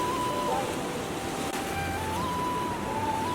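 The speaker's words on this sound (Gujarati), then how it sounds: "જો ગાઈઝ કેટલું પાણી આવી ગયેલું છે નદીમાં" Floodwater in a swollen village river rushes in a loud, unbroken roar that stays steady throughout, with wind buffeting the microphone.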